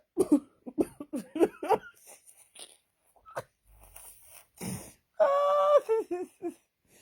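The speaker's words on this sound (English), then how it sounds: "you know they cough like yeah" Bursts of harsh, wheezy coughing come in short fits, close up, mixed with breathy throat sounds and a few quieter pauses between.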